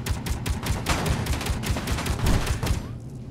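Rapid automatic gunfire from an enemy turret in the Space Engineers video game, a loud, dense stream of shots sustained for about three seconds before cutting off, heard without speech.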